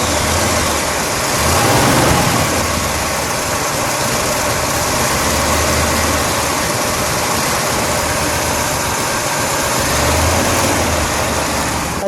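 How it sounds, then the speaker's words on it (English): A 1970 Oldsmobile Cutlass 442 W-30 convertible with a 4-speed engine running at a loud, steady, rumbling idle close by, with slight swells in the throb. "Tom, I will let you jump in the driver's seat and let's start this one up."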